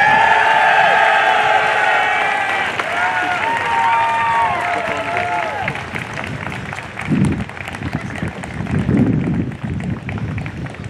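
A large audience at a Nuclear Power School graduation ceremony breaks into loud, sustained applause and cheering, a full, continuous roar of clapping with high whistles and shouts early on that gradually thins toward the end.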